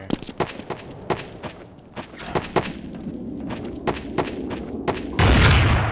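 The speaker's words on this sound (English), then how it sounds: "We're just shooting sniper rifles and missing everything." Sniper rifle shots in Counter-Strike: Source, a string of sharp, fairly close cracks spaced roughly half a second apart, ending in a louder sustained burst of noise; no talk.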